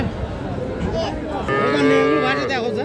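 Cattle and calves moo at a busy livestock market, a drawn-out low bellowing call rising near the end over a dense crowd murmur and distant voices.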